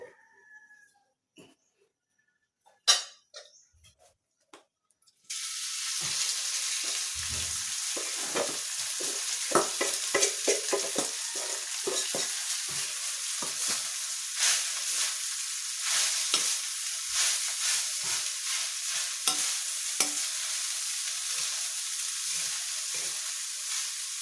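Garlic fried rice tipped into a hot pan breaks into loud, continuous sizzling, with repeated scraping and clattering of a spatula as it is stirred, after a few quiet knocks beforehand.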